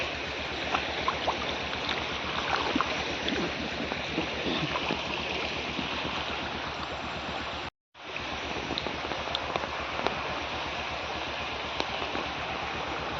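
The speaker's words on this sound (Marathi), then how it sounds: "नदीसारखं आहे पाणी वाहतोय इकडे बघा" A small river's water rushes and gurgles steadily close by, a continuous broad wash of sound, broken by a brief dropout partway through.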